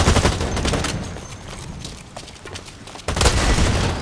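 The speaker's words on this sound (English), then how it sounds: "that's a shotgun" Shotgun blasts in the video game Blacklight Retribution come in a loud burst at the start, go quieter in the middle, then return in another heavy volley near the end.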